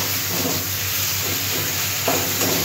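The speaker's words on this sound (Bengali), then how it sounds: "আমি এবার কষিয়ে নেব।" Ground turmeric, coriander, cumin and Kashmiri chili powder sautéing in a hot pan, a steady close sizzle and hiss with soft stirring scrapes running throughout.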